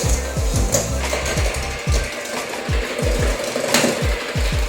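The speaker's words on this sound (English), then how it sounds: "I'll be using a hand mixer instead" An electric hand mixer whirs through cake batter for a Battenburg cake, its loud, close motor pitch dipping repeatedly in quick rhythmic bursts as the beaters work the mix.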